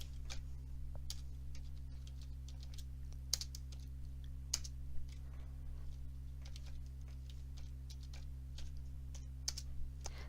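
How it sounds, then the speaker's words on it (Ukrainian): Keys clatter on a computer keyboard as program code is entered, an irregular run of close, crisp taps over a steady low electrical hum. "Наберемо текст програми."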